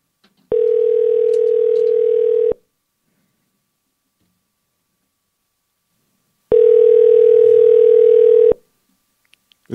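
Telephone ringback tone while calling a guest on a live radio show, two long steady pulses about two seconds each, separated by a four-second silence, loud and close with no talk.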